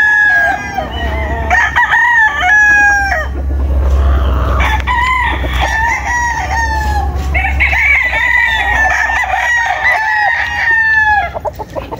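Gray Boston gamefowl stags crow loudly and repeatedly at close range, with clucking between the crows against a steady low hum.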